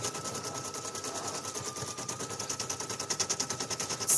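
Brother PE800 embroidery machine stitching, a fast, steady mechanical needle rhythm with a faint whirring motor tone underneath, close and continuous, growing slightly louder toward the end.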